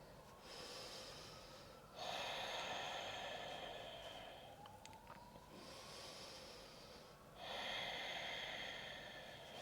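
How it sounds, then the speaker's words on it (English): Slow, deep breaths in and out during a yoga practice, with long airy inhales and exhales in a quiet room, close and soft, with no talking. "Last 2 breaths."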